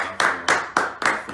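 Slow, sharp hand claps, about five evenly spaced in a row, fairly close and alone without talk, from a small audience.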